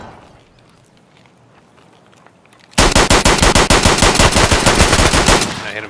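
A quick burst of loud pistol gunshots in the video game Escape From Tarkov erupts after a quiet stretch, the shots rapid and close together with faint footsteps beforehand.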